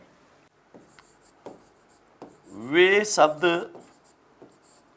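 Marker or chalk scratching across a classroom board in a few short strokes, close and clear, alternating with a teacher speaking Hindi.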